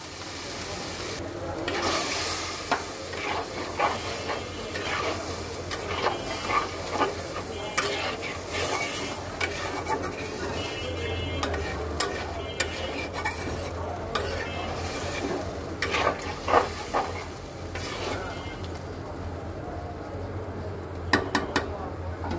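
Shrimp and drumstick curry sizzles steadily in a pan after water is added, with repeated scraping and clinking of a spoon stirring, while someone talks throughout.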